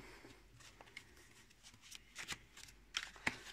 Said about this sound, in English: Okay, so really nice shuffling.